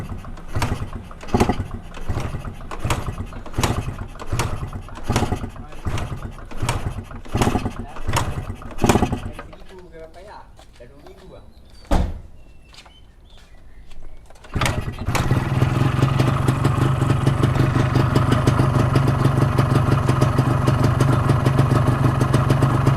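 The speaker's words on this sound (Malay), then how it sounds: "Dia akan macam nak hidup sekali, lepas tu kita start tak hidup, kita kena start banyak kali." Yamaha 125Z motorcycle engine cranked over and over in a workshop, a rapid run of regular kick-start bursts that stalls, a short quiet pause, then catches and settles into a loud, steady, buzzing two-stroke idle.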